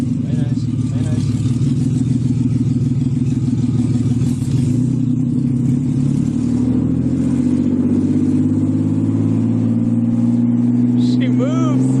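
A car with a rebuilt forged BMW S52 engine accelerates, its loud engine note rising steadily in pitch through a long pull with mechanical clatter, heard from inside the car with voices talking over it.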